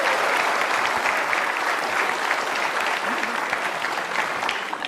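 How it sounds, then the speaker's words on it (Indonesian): Sustained studio audience applause on a Mata Najwa talk show set, following the introduction of Surabaya mayor Tri Risma Harini; dense, steady clapping fills the full five seconds, loud and close with no break. "Sekali lagi dong tepuk tangannya."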